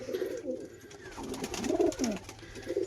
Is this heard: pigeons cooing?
yes